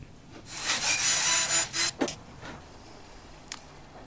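Snug wooden box joints pressed and smashed together by hand, a close rough scraping rub lasting about a second and a half, then a short knock and a faint later tap in a quiet room.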